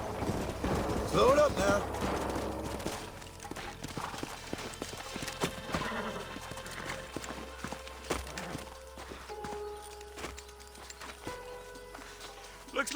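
Horses' hooves clip-clop at a steady walking pace in Red Dead Redemption 2 while someone speaks briefly, with music and ambient game sounds underneath.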